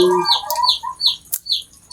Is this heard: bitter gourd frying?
no